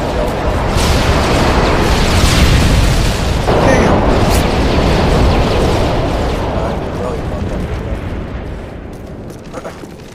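Stealth bomb blasts in Modern Warfare 3 online multiplayer, a continuous loud roar of rumbling explosions that holds steady and then slowly fades, with what sounds like talk blended into the din.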